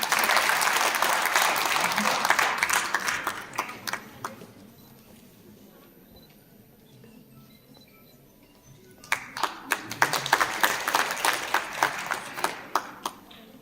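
An audience at an International Women's Day award ceremony applauds a calligraphy artist receiving an award. Loud, dense clapping for about four seconds fades to quiet murmur, then a second burst of applause swells up and continues to the end.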